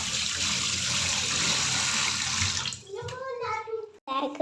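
Tap water runs steadily into a sink while washing up in a home kitchen, a loud splashing rush that cuts off partway through, after which a voice speaks.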